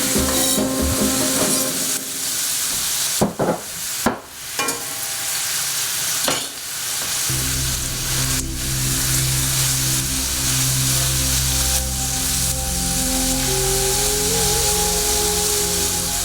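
Steady broadband sizzle of chicken frying in a hot pan, with a few clanks and stirring sounds early on, then continuous crackling frying.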